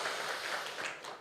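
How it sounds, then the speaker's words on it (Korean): A church congregation gives a round of applause of thanks during a Sunday service, a faint, dense patter of clapping heard from a distance. "정말 우리 감사의 박수 한번 올리겠습니다."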